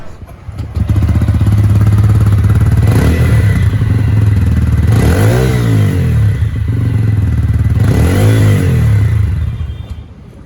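A TVS Ronin motorcycle idles with a deep, throbbing exhaust, then is revved sharply twice, each rise and fall clearly audible before the engine cuts off.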